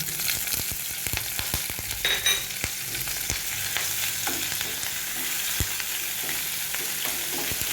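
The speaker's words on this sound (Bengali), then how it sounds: "একটু ভেজে নেব আমার গ্যাসের ফ্লেমটা কিন্তু আমি মিডিয়ামে রেখে এটাকে ফ্রাই করব" Grated ginger and chopped green chillies fry with cumin in oil over a medium gas flame, a steady close sizzle with scattered sharp ticks and stirring clatter, and no talk.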